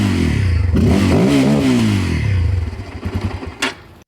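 Close-up revving of a Bajaj Pulsar N250 motorcycle with a double-barrel exhaust, the bassy note climbing sharply in pitch, holding, then dropping back to an uneven, popping idle with a brief blip near the end.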